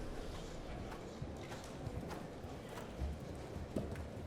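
A horse's hooves clip-clop on the ground at a showjumping event at Bury Farm, soft irregular thuds heard faintly under a broad, steady outdoor wash.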